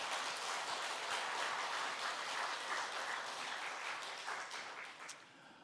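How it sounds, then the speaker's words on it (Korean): A church congregation in a large room applauds steadily after a choir's hymn, a warm wash of many hands clapping that fades near the end. "찬양대의 감사와 하나님께 영광의 박수 올려드리겠습니다"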